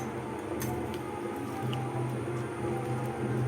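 Mung dal washed with water in a bowl: soft squishing, sloshing and dripping sounds at close range, quiet and irregular, with a faint low hum beneath and no voices.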